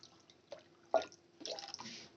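Curry broth for a fennel egg curry boils in a pan, giving faint, sparse bubbling pops and soft liquid plops in a short, quiet stretch.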